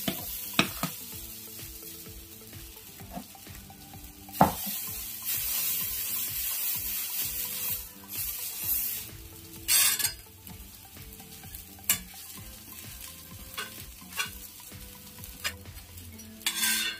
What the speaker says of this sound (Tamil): அதனால் எங்களுக்கு முட்டை தோசை ஊற்றிட்டுருக்கேன்